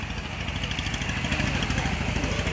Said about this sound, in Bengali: এখন একটা ট্রলার যাচ্ছে আর কি, আমরা ছোটবেলা পড়তাম বোট, নদীর উপর দিয়ে এখন বয়ে যাচ্ছে